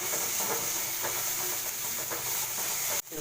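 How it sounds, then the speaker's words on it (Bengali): Onion, garlic, ginger and green chilli sizzle steadily in hot oil, a dense continuous hiss with small crackles throughout, close and loud, cutting off abruptly near the end. "তেলেতে পেঁয়াজ দিয়ে দিচ্ছি, পেঁয়াজটা ভেজে নিয়ে এবার রসুন দিয়ে দিলাম একটুখানি"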